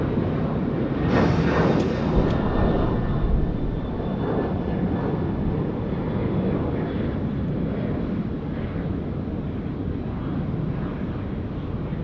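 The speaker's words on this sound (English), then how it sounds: "we've got our UPS 747 just dropping it in for runway 34 left" A UPS Boeing 747 descends onto runway 34 left at Sydney Airport at night, giving a loud, continuous broadband jet-engine roar that swells early and then holds steady, heard from the ground without speech.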